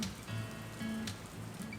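Steady summer rainstorm rain falling at a Florida garden center, a soft continuous patter with low rumbling hiss underneath, fairly faint and even throughout, with no voices.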